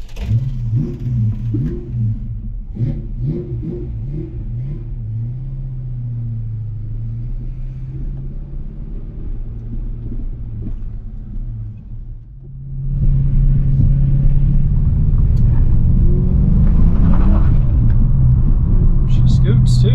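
Engine of a 1993 Texas DPS car rumbling and revving as it pulls away, a steady low drone that swells louder partway through as the car accelerates, with a voice talking over it.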